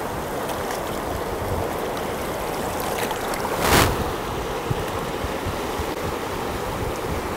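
Warm water pours out of an outflow into the Danube at Paks, making a constant, broad rushing wash heard outdoors along with wind noise, with one brief louder gust midway.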